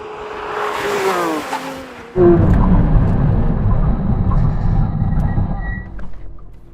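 A Porsche brakes hard from 100 mph on a test strip: a tone sweeps briefly before a sudden loud rumble of tyres and road noise sets in and gradually fades as the car slows.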